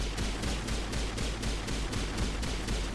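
Rapid gunfire in a shooting video game, a steady stream of evenly spaced shots in quick rhythm, continuous and fairly close with no talk over it.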